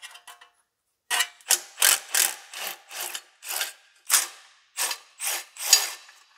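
A ratchet wrench loosens flange bolts on the supercharger of a Mercedes E55 wagon, producing a brisk series of about a dozen close, rasping clicking strokes in an uneven rhythm, with no talking.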